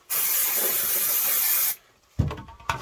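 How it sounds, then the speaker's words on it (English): Brake cleaner sprays in one long, steady, loud hiss onto a new 1/5-scale Kraton 8S EXB RC car body shell, then cuts off abruptly before a few short knocks and rustles. "we're going to give it a bit of a clean up, get any grease and stuff off with a good old brake cleaner"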